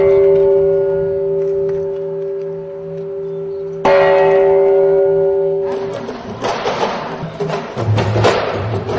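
A bell rung for an Earth Day event with students rings out with a sustained, clear tone that holds for several seconds, then gives way to louder, busier outdoor noise.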